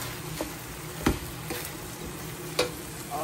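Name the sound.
pumpkin greens added to pot of chicken and khichuri, stirring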